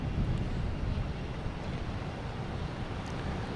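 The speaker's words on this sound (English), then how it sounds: "Here's a JetBlue coming in from Cleveland." A JetBlue airliner approaches to land at Boston Logan, heard as a steady, continuous low rumble with broadband roar and some wind noise, moderately loud throughout with no talking.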